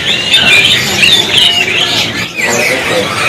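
Starlings calling in a bird market kiosk, a close, steady run of high chirps and squawks, overlapping and loud, with a brief dip midway.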